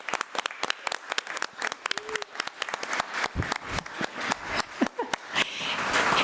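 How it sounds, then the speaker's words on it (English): School board meeting crowd applauds for a pre-K student coming forward, many close sharp hand claps at first sparse, then building into denser steady applause, with little talk. "Let's give Aubrey a hand as she comes forward"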